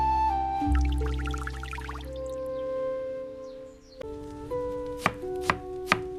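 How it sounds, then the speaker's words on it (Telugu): Onions, tomatoes and capsicum being chopped in a miniature kitchen, starting with a burst of fine rapid knife taps, then a quieter stretch before three crisp, evenly spaced chops ring out near the close. "ఉల్లిపాయలు, టొమాటోలు మరియు క్యాప్సికంలను సన్నగా తరుగుకుందాం."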